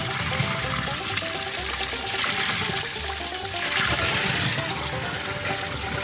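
Cold water streams steadily from a shower in a rural property's bathroom, a continuous close rushing and splashing with slight shifts in flow, with no voices.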